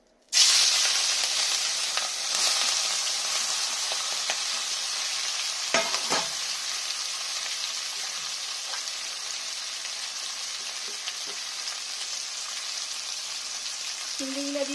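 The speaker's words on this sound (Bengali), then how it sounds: "এবার আমি চিংড়িগুলো ভেজে নেব।" Shrimp drop into hot oil in a wok and burst into loud, bright sizzling that settles into a steady crackling hiss, with a few scraping knocks midway.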